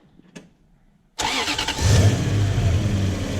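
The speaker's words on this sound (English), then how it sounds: "There is the engine running." A Toyota 1UZ-FE V8 car engine cranks and catches after a quiet pause with a brief click, then settles into a loud, steady running rumble close by.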